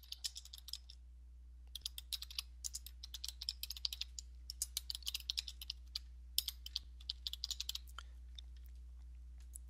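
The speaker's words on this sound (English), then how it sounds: "I'm going to click on the screen and type some text in." Typing text on a computer keyboard, quiet close-up key clatter in bursts of rapid taps with short pauses between words, over a low steady hum.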